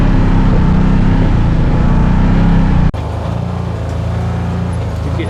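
Off-road rock crawling edition machine on 30-inch tires working a technical trail, its engine a steady loud drone that drops abruptly to a lower, rougher rumble partway through.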